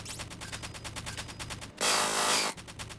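Infinite SMG firing in the video game Deadly Premonition: a fast, steady rattle of automatic shots lasting most of the stretch, with a brief harsh burst of noise in the middle before the rapid fire resumes.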